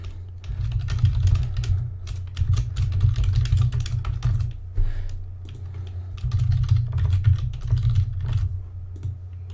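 Fast, steady typing on a computer keyboard while filling in settings: dense clicking keystrokes with a short pause partway through, close and clear, no talk.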